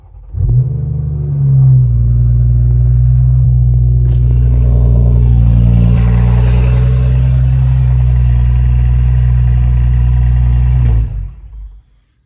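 A tuned 2024 BMW 540i fires up close by with a loud starting rumble, then settles into a deep, steady idle that holds for about ten seconds before cutting off.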